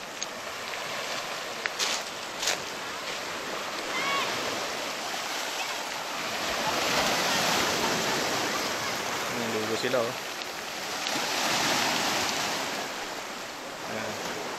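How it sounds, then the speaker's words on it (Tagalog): Sea waves wash steadily along the Banilad shore in Mindoro, a broad continuous surf rush that rises and falls in slow swells, with a brief remark spoken over it. "ganito ang dagat dito sa Banilad"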